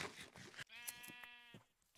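A Minecraft sheep gives a single clear, wavering bleat lasting about a second, preceded by soft clicking game sounds, with no speech over it.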